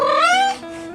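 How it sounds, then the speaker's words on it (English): A domestic cat gives a single close, loud trill, a rising chirping call that lasts under a second and then fades into a softer tail. "This sound is called a trill or chirp, and it's not just a random noise."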